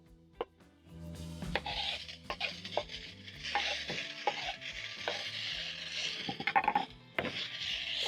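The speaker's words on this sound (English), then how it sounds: "Stir and cook for around a minute or until the tomatoes are cooked down" Tomatoes being stirred with beef in a pan, a utensil scraping and clacking in irregular strokes over a soft sizzle, with a few louder knocks near the middle.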